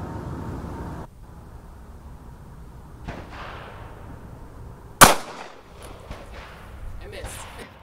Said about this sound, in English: this is our first attempt at shooting the trigger off of a gun